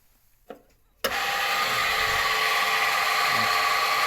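After a brief quiet knock, the electric motor of a cold-forging machine starts abruptly and keeps running with a loud, steady whirring hum.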